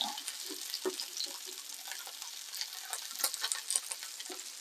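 Steady crackling sizzle of Thai-style pork patties shallow frying in a pan, with scattered pops and spits over a continuous hiss, no voices.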